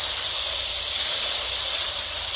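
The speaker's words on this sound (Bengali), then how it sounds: "তেল গরম হয়েছে, কড়াই দিব জিরা, জিরা হয়েছে দিব পেঁয়াজ রসুন একসাথে বাটা।" Ground onion and garlic paste hits hot mustard oil with cumin in a wok, giving a loud, close, steady hiss that holds evenly throughout.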